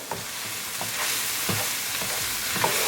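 Spices (coriander, salt, cumin, garam masala, degi mirch, turmeric) stirred into fuzzy melon in a frying pan, with a steady close sizzle broken by regular spoon scrapes about every half second.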